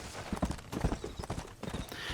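Horse hooves gallop at a quick, steady clip-clop rhythm in Red Dead Redemption on PS3, loud and close with no talk over them.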